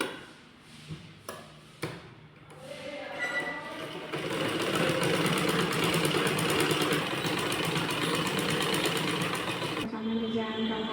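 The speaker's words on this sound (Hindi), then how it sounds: "इसको हम टप सिलाई लगाएंगे।" A sewing machine top-stitches a blouse, starting after a few short taps and brief pauses, then running in one steady, close, continuous whir for about six seconds before stopping abruptly.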